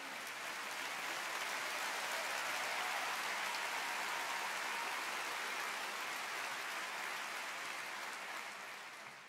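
Audience applause at an Austrian People's Party campaign launch rally for Sebastian Kurz: a steady, dense wash of clapping from a large crowd that holds for several seconds before easing slightly.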